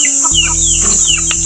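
Chickens cluck and chirp on a chicken farm, loud and close over a constant buzzing hum, several birds calling in short overlapping bursts.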